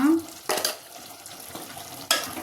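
Tomato curry with chili powder cooking in a pan, stirred in three quick scraping strokes that stand out over a soft sizzle, close by and fairly loud.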